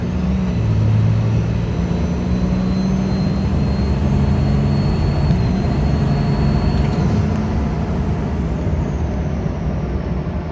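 A Cummins diesel truck fitted with a 4-inch MBRP exhaust accelerates hard at highway speed, a loud, continuous low engine drone with road and wind roar and no talking.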